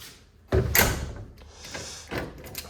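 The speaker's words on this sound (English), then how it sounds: "Still gotta fix this door. It keeps catching down there." A house door closing with a scraping catch near the bottom as it swings shut, a sharp thump followed by a second softer knock, close and fairly loud.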